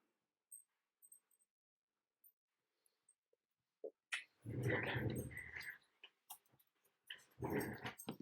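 Puppies make small, sporadic yips and whimpers that are quiet at first, then give way to louder, close-up bursts of scuffling and dog noises in the second half.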